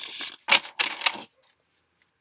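A Gilded Tarot card deck is shuffled on a hard ledge in a few quick, loud, crisp riffling bursts close by. The bursts fade to faint light taps and silence.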